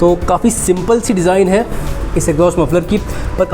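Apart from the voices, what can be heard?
No everyday noises stand out.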